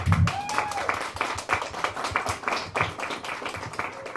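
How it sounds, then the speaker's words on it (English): Audience clapping for a panel at the Nogales Bicycle Classic community event, a short round of scattered handclaps with some voices mixed in, fairly close and moderately loud. "Can we give them all a round of applause?"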